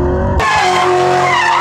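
A pink 700hp HSV GTSR Maloo ute with a 6.2 litre LSA V8 drifting on a private track, tires skidding and squealing loudly over a roaring engine, sustained and close.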